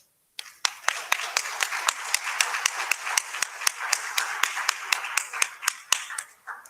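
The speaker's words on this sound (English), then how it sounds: "let's once again clap to our speakers" An audience at a conference parallel session claps together in a brisk, fairly even rhythm of sharp hand slaps, close and steady for about six seconds after a brief silence.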